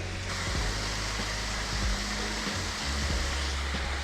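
A low creek flows over rocks outdoors, a steady close hiss of running water with a few low thumps and bumps over it, and no talk.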